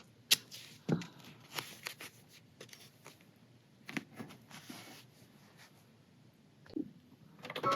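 Embroidery machine stitching an in-the-hoop zipper bag: irregular close clicking and rustling bursts, loud at the start, then uneven muffled tapping with short pauses.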